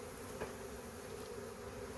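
Honeybees hum in a steady, dense swarm buzz around an open hive during a hive transfer, close and unbroken for a couple of seconds without speech.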